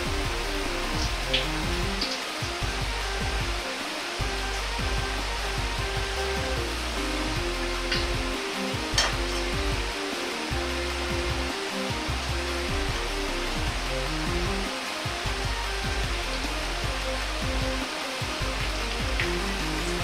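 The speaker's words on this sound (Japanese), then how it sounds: "肉を中温の油に入れ揚げていきます。" Chicken pieces coated in a sticky batter of potato starch and flour fry in medium-hot oil in a pot for karaage, giving a steady, dense sizzling hiss with scattered small crackles and no voices.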